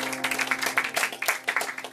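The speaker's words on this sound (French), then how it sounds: "On l'applaudit, elle s'est levée" Audience at an evening performance claps in bursts for a performer rising to sing, the applause uneven and moderately close over a faint steady hum.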